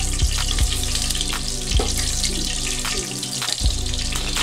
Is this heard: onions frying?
yes